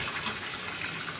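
Water gushing steadily from a tap, a continuous close rushing and splashing sound with no voices.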